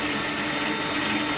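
An electric blender whirs steadily at close range, mixing sweet Punjabi lassi made with milk, a continuous motor drone with no break.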